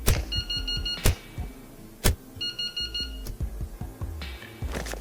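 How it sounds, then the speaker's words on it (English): A tide alarm in the Into The Radius video game beeps in repeated bursts of high electronic tones, interleaved with loud clicking and thumping game sounds over a few seconds. "Here's the alarm for the tide"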